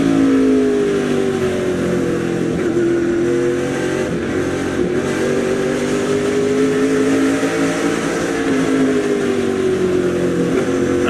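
Kevin Harvick's SRX race car heard onboard at Berlin, a loud continuous engine drone whose pitch rises and falls as the throttle is worked through corners, never reaching a sustained wide-open scream.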